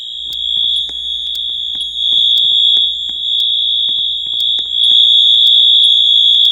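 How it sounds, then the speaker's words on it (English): Wheelock AS fire alarm on the upper floor of a bank, blaring a loud, steady high-pitched tone nearby with sharp repeated pulses running through it for the whole stretch, with no voices. "Upstairs fire alarm number 3."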